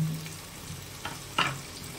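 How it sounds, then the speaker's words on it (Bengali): Turmeric-coated prawns frying in oil in a pan, a faint steady sizzle with a couple of brief spitting crackles and stirring clatters, no talk. "চিংড়ি মাছটাও একসঙ্গে ভেজে নেব। ভেজে তুলে নেব।"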